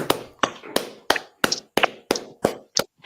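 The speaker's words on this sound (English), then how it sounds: "Clap it up." A group of people clapping hands in about ten evenly spaced, sharp claps, close and loud, each separated by near silence.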